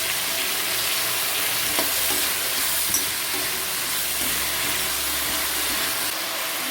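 Brinjal pieces fry in oil in a pan with a steady, even sizzle and faint stirring scrapes throughout, with no talking.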